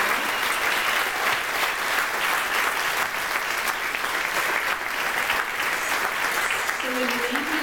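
An audience gives the Deepsea Challenge deep-sea dive crew a round of applause at a panel event, sustained, even clapping filling the room from start to finish, with a brief voice near the end.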